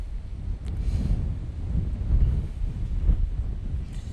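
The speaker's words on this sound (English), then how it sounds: "It's windy out here today." Gusty wind buffets the microphone outdoors in a steady rumbling roar that swells and eases over a few seconds, with no voices.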